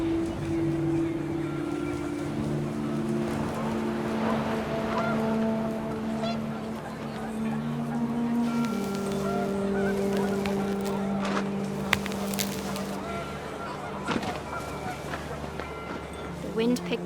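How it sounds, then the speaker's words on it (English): Panicked geese honking in What Remains of Edith Finch on PS5, a run of overlapping honks and calls under a narrating voice, with gusty wind in the background. "The wind picked up, and panicked geese appeared and quickly went."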